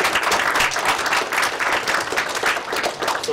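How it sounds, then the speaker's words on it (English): A theater audience at a student game programming showcase gives a closing round of applause, dense rapid clapping that pulses slightly in waves over a few seconds. "A final round of applause for Group B."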